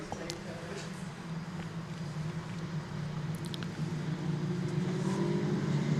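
Legends race cars, 1934 Ford Coupe replicas, race at Donington Park, their engines droning steadily at a distance and swelling louder toward the end under commentary.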